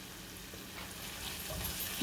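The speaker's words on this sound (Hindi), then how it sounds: "दस मिनट इसको अच्छी तरह से फ्राई करना है।" Masala spices fry in a pan for a Hyderabadi masala chicken, giving a faint, steady sizzle and hiss with no talking.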